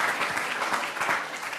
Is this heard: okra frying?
no